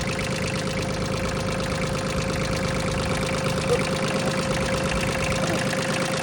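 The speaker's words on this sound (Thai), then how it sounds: "อ่าเครื่องยนต์สามสูบ" A three-cylinder Iseki tractor engine idles steadily up close, a continuous low rumble with a regular mechanical knock and no pauses.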